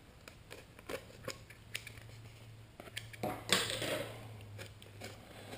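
A knife trims tape ends on a biplane model build, giving a few soft close clicks and taps followed by a brief louder scraping cut, with no talking.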